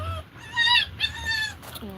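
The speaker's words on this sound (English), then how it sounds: "Bull, this puppy. He is he's scared" A scared puppy whimpers during a severe thunderstorm in southeast Oklahoma, giving a few high, wavering whines close by in quick succession, with a short low voice at the end.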